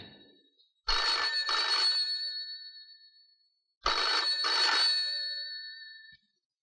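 A telephone rings twice indoors, each ring a clear trilling double burst lasting about a second and a half, separated by a pause of silence, with no talking over it.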